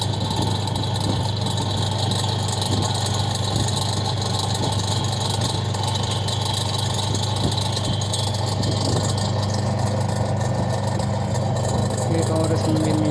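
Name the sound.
noisy motor of Super Asia washing machine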